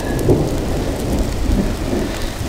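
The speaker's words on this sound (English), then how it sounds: "Dang rain." Heavy rain falls outdoors in the woods, a loud, continuous hiss and patter on surfaces close by, with a low rumbling undertone throughout.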